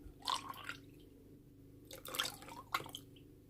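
Lactose-free milk poured into banana muffin batter in a home kitchen, giving a few soft splashy glugs and drips in short bursts against a low background hum.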